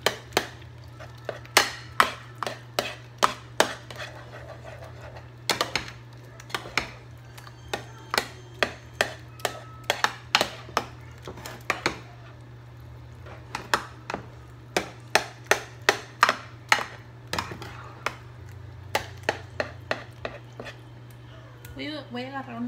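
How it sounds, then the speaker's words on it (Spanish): A spoon beats flan de pan batter in a bowl with quick, regular clacking taps in steady bursts, close and clear over a low constant hum. "Y aquí es batir y batir."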